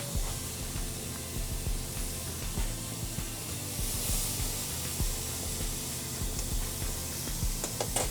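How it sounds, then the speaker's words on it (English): Steak searing in a hot pan, a continuous close sizzle and spitting hiss with faint crackles, heard on its own without talk. "While our steak is cooking"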